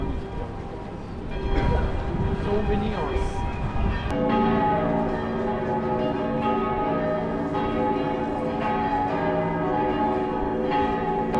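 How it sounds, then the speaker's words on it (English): Church bells of St. Stephen's Cathedral in Vienna ring out loud and sustained, their overlapping tolls blending into a dense, resonant wash that fills the square. "Just in time for the bells."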